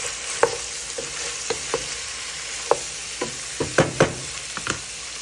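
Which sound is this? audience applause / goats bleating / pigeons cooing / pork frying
pork frying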